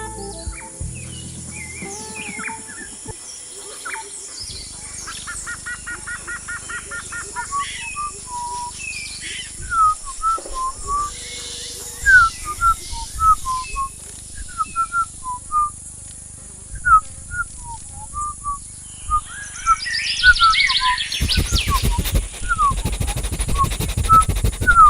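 Birds calling outdoors, a scattered series of short squawking calls and chirps at mid distance, irregular and sparse over a quiet background, growing busier toward the end.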